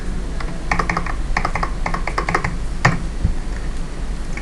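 Numbers are keyed into accounting software on a computer keyboard, with several brisk clusters of close key taps and a louder single tap near the end.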